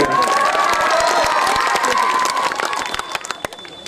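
At a mushaira poetry recital, a large audience claps and cheers loudly with scattered shouts, the dense applause carrying on for several seconds and then tapering into separate claps.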